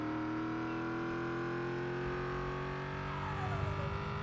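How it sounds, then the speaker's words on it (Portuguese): Car engine in the video game Project Zomboid, with a turbo whine as it reaches top speed; a steady, loud droning hum with rising tonal lines, continuous throughout without talk. "Ele tem um barulho de turbo"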